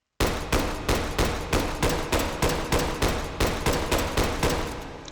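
M1 carbine fired semi-automatically in the VR shooting game H3VR: about fourteen sharp, loud gunshots in a steady, fairly quick rhythm, each with a short decaying tail, no talking.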